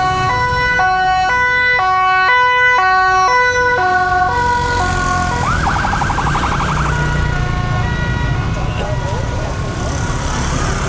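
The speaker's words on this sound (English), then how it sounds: "There's an ambulance." An ambulance siren wails loudly through busy Jakarta traffic, a fast alternating two-tone pattern that shifts into a rising whoop, set against dense road and motorbike noise.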